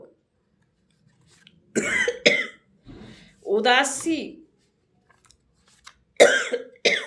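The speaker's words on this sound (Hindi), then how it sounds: "खांसी ने दुखी किया।" Several short, harsh coughs in bursts, close and fairly loud, mixed in with someone talking.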